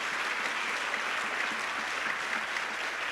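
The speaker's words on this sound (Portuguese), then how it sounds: "Pode aplaudir, é sobrevivência." Steady, dense applause from a church congregation during a sermon, evenly sustained throughout with no speech over it.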